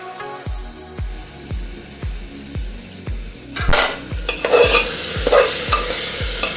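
Green chillies fry in a pan for a coconut milk mutton gravy, a constant sizzle punctuated by a regular run of metal spoon scrapes and knocks about twice a second, with the frying swelling louder partway through.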